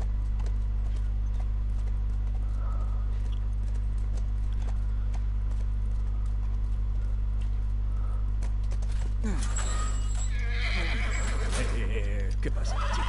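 Horse neighing and clip-clopping hooves from The Last of Us Part I, a steady game ambience with a low hum throughout and a whinny and hoof activity rising near the end, with talk.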